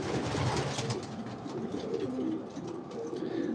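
Racing pigeons in a breeder loft coo in low, throaty warbling phrases that overlap steadily, close and fairly loud, with no speech.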